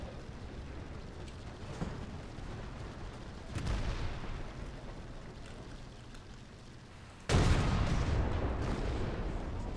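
Tank cannon fire in War Thunder: two heavy booming blasts several seconds apart, the second louder and closer, each trailing into a rumbling tail over a low engine background, with no talk.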